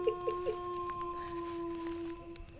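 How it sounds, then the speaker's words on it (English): A faint, sustained howl sound effect with a wolf-like tone holds steady for a few seconds, while a few soft short sounds come near the start. "Your wolf howl."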